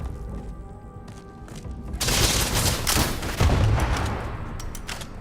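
Starfield video game combat with dense, sustained gunfire: an overlapping barrage of shots and booms swelling loud after a quieter start and continuing throughout, with no talk.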